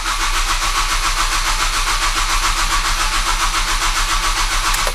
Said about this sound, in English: Now if I crank the engine,